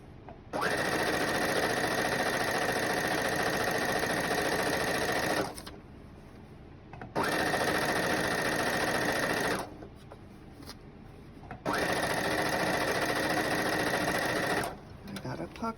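Domestic sewing machine stitching a fabric book bag, running in three long steady whirring bursts separated by short pauses, loud and close.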